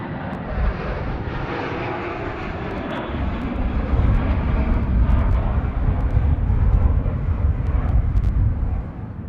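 An Airbus A320 rolls for takeoff on runway 34 right at Sydney Airport in gusty wind, its jet engines a steady, loud broadband roar that builds slightly and holds strong throughout.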